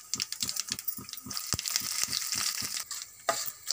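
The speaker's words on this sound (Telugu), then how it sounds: "తాలింపు వేగిపోయిందండి" Curry leaves, dried red chillies, chana dal, cumin and mustard seeds frying in hot oil for a gongura chutney tempering, giving a close, steady crackling sizzle with sharp rhythmic pops and spatters throughout.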